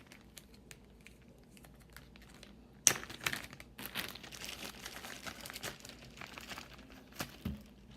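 Plastic packaging around hair wigs crinkling and crackling as it is opened, quiet at first, then a sudden loud rustle followed by irregular crumpling and tearing noises close by, with no talking.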